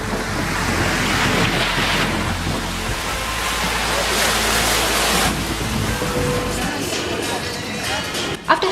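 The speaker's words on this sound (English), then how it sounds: "There's something calming about listening to the waves gently crash against the shores." Waves wash steadily onto a beach shore in Cyprus, a continuous, fairly loud surf roar with wind buffeting the microphone and no clear breaks between swells.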